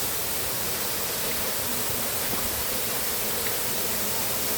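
A waterfall gives a steady, broad rushing hiss that stays constant and even throughout, with no voices.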